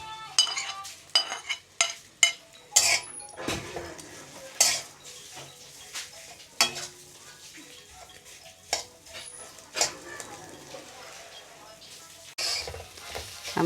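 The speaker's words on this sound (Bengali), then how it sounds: "আমি 1 থেকে 2 মিনিট কড়াইয়ে ভেজে নেব।" Taki fish bharta frying in a wok while a spatula scrapes and clinks against the metal in irregular bursts, with a soft sizzle underneath and no talk.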